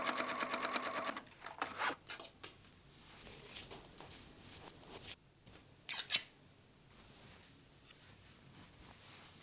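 A sewing machine stitches panels of an old-jeans shoulder bag in a fast rattling run at the start, followed by short bursts, scissor snips and faint handling clicks.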